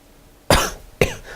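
A lecturer teaching a math class coughs twice in quick succession, close and abrupt, with only faint room noise between the bursts.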